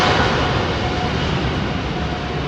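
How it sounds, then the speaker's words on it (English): A Virgin Airbus A350 XWB takes off from London Heathrow runway 27R, the jet engines a loud, dense, continuous roar that stays close and steady throughout. "Those XWBs firing him across the Atlantic."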